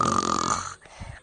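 A person gives one rough, rattling snore lasting about half a second, close and moderately loud, followed by quiet.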